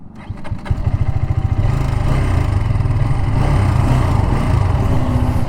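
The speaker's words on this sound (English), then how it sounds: "let me make you hear the exhaust sound" A Hero Karizma XMR motorcycle engine revs up and settles into a loud, steady, throaty exhaust rumble with rapid pulsing, close by, on the road.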